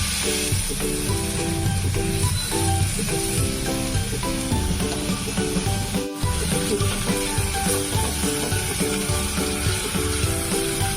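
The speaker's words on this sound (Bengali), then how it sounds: "দেখুন নারকেল বাটাটা দিয়ে খুব সুন্দরভাবে এটাকে কষিয়ে নিয়েছি।" Coconut paste sizzles in a hot pan while a spatula stirs and scrapes it in a steady rhythm, close and continuous, with music playing underneath.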